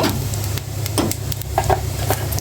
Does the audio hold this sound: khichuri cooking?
yes